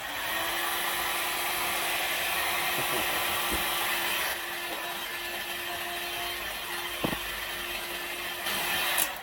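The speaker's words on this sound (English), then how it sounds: "using a heat gun, just burns off any kind of residues and just evaporates everything" A heat gun burns off residue on a car body panel in a workshop. It blows with a steady, close, hissing airflow roar, and a few faint knocks can be heard underneath.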